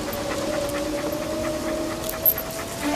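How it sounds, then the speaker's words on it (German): A dog pants steadily and close by for about three seconds, its quick breaths running under a constant low hum with no voices. "Herr Hund, komm sofort zurück!"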